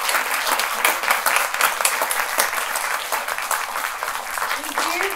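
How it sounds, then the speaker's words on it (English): Audience at a women's advocacy event applauding panelists, a full, sustained round of clapping from many hands, dense and steady, with a voice briefly audible near the end. "I'd like you to join me in a round of applause for our panelists today"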